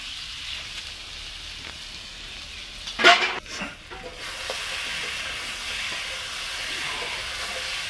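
Tangra fish frying and being stirred in a pan for a spicy Bengali curry, with a steady hiss of sizzling oil, a sharp scrape and clatter at the three-second mark, then a continuous loud sizzle.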